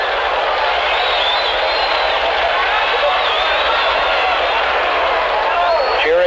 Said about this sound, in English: Cheering and yelling going on down the way as they approach the cars.